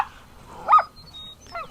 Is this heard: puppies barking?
yes